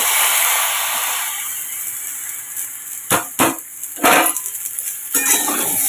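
Ridge gourd goes into a pan of frying potatoes with a loud oil hiss that fades over a few seconds, followed by several sharp scrapes and clinks of a spatula against the pan.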